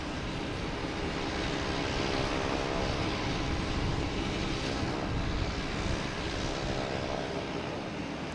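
An Iberia airliner at Boston Logan Airport gives off a steady, loud engine roar with a broad rumble and a faint whine. It holds level throughout with no voices.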